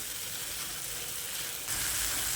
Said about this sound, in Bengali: তারপর মশলাটাকে আরও কিছুক্ষণের জন্য কষিয়ে নিচ্ছি, আর এটা লো টু মিডিয়াম ফ্লেমে করতে হবে।